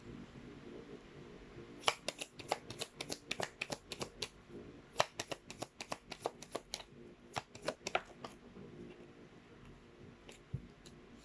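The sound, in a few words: tarot cards being shuffled and drawn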